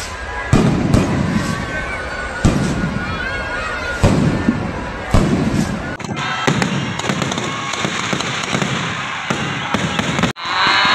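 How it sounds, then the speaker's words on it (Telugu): Firecrackers and fireworks burst at a goddess festival in Rajampeta, India: loud, rapid strings of cracks and bangs in an open outdoor space, continuous and close, with a crowd faintly audible underneath. "టపాసులు అయితే పెట్టి వెళ్ళిపోదాము"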